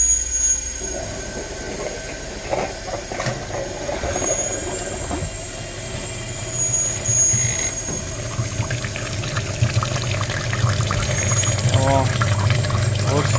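A steady mechanical hum with a rising low drone and liquid gurgling as a coolant flushing machine runs close by in a workshop, connected to a Mitsubishi Lancer X heater radiator.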